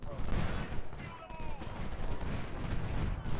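Artillery fire and musket volleys in Ultimate General: Civil War, producing a dense, continuous rumble of booms and crackling gunfire with someone talking over the battle.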